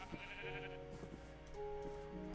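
Sheep in Minecraft bleat in a few short, wavering calls, one after another and fairly soft, alone with no voices.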